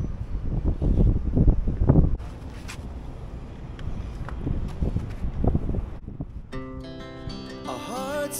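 Hot wind in Kuwait rushes and buffets a microphone in uneven gusts, with rustling and low rumble, before a musical tone sequence fades in near the end.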